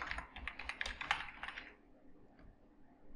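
Quick, light clicking of keys on a computer keyboard as a message is typed, a close burst of taps for about a second and a half that trails off into a few faint strokes.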